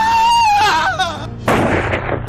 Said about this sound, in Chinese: 砰砰砰三枪全部打在要害上，吴天当场死亡。